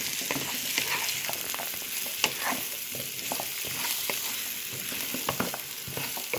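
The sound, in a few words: stirring pumpkin cubes frying in a pan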